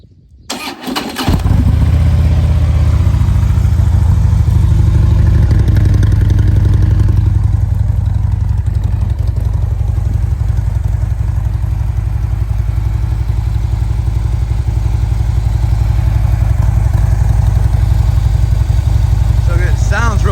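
A 2015 Harley-Davidson Street Glide Special motorcycle engine cranks and fires, then settles into a loud, deep, steady idle with a throbbing low rumble, close by and running alone.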